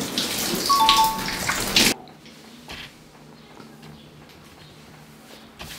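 A cold shower runs with a loud, close, rushing spray for about two seconds, then cuts off abruptly to a quiet room with faint drips and small bathroom noises.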